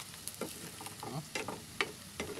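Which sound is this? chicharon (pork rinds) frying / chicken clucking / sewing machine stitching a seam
chicharon (pork rinds) frying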